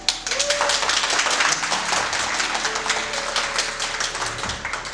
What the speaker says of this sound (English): Please give a big round of applause for that.